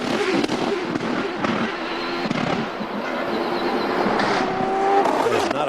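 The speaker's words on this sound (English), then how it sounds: "And now you hear a misfire." A CART race car misfires on track during qualifying at Portland, a continuous engine roar broken by sharp popping bangs, loud and close, with a commentator talking over it.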